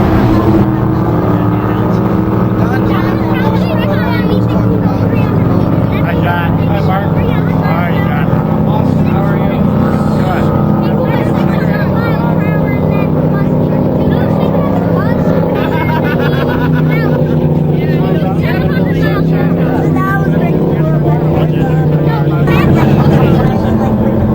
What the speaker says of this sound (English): the race boats out on the Niagara River